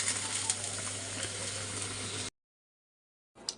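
A steady hiss and bubbling from fish curry simmering in a covered pot, close and fairly quiet, cutting out abruptly and returning briefly after a pause.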